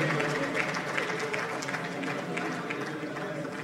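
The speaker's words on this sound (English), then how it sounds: "Keep the round of applause going." Crowd applause at the Alliance For New Nigeria national convention: a steady, moderately distant patter of many hands clapping that continues evenly, with faint voices underneath.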